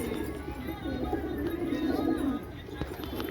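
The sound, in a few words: racing pigeons cooing in the loft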